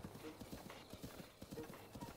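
Horse hooves clip-clop in Breath of the Wild, a quick, regular rhythm of soft thuds under low game ambience.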